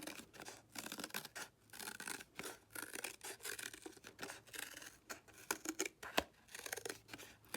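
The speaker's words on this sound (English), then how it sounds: "Sometimes it can be a little difficult to cut if it's double layer packaging." Scissors snip through double-layer recycled packaging while cutting circles for a lion collage, a close, steady run of rasping cuts repeating in quick rhythm with no talk.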